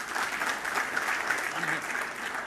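Audience applause at a televised political conversation event with a senior Indian minister, a steady, dense clapping from a large crowd that stays loud and even throughout, with no voices rising above it.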